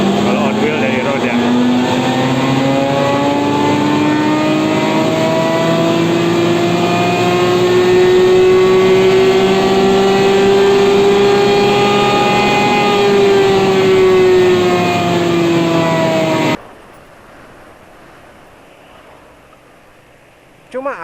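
A Honda PCX 160 scooter fitted with a racing exhaust revs steadily on a crank dyno, a loud sustained engine drone rising slowly for about sixteen seconds before cutting off to a quiet background.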